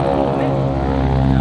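A historic Douglas C-47 propeller aircraft at AirVenture drones with a loud, steady engine hum and layered propeller tones, constant and close throughout.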